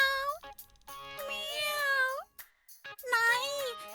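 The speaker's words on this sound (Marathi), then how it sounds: "आता बिचारी मांजर जोरात ओरडायला लागते" A cartoon cat yowls and meows loudly in three drawn-out, wavering cries separated by brief pauses, close and dominant throughout.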